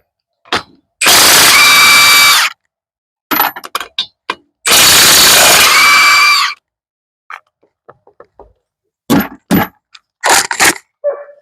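A high-torque impact wrench works on the front hub of a 2012 Chevy 3500HD truck, firing two loud hammering bursts of about a second each, followed by scattered clanks and short rattles.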